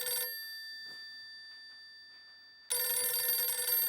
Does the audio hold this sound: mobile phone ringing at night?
yes